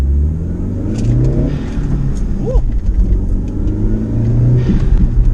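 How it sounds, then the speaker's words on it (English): A B6 Audi A4 1.8T Stage 1+ engine revs and accelerates nearby, a loud continuous rumble with rising and falling pitch, and someone lets out a brief whoop. "He's whipping around in my car in the background here."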